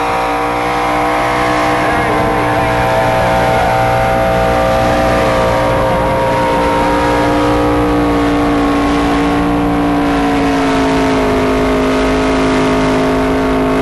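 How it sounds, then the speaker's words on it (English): A Chevrolet 350 V8 engine in a pulling tractor roars continuously at high, steady revs, loud and close, with the pitch climbing slightly as it strains under load at a tractor pull. "nett's got a 350 Chev in this, driving through the old Twin City rear end"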